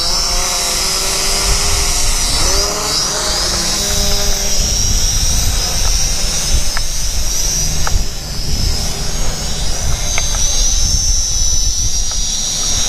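A JY011W Inspire toy drone launches and flies, its rotors giving a continuous high-pitched whine with shifting pitch, loud and close throughout.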